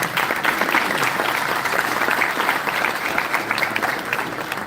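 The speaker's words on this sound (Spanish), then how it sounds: "Un aplauso entonces para nuestros estudiantes." Audience applause for students at an inaugural university lecture: a steady, dense roomful of clapping that holds at an even level from start to finish, with no voices over it.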